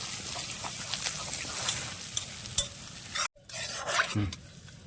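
Chopped ginger and panch phoron frying in hot oil and stirred with a spoon, a steady close sizzle with scraping strokes against the pan and a brief pause near the end.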